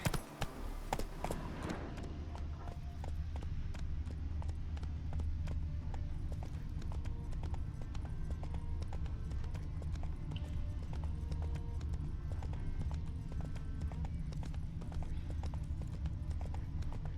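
Roach, a horse in The Witcher 3, gallops in a fast, steady clip-clop of hooves that runs continuously and close over a low ambient rumble, with a brief clatter at the start.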